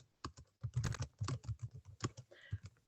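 Fast typing on a computer keyboard, a close burst of crisp, quiet key clicks in an irregular rhythm with no talking.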